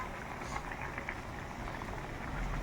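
Jute leaf dish simmering in water in a pot, a steady dense bubbling and sizzling hiss that holds evenly throughout.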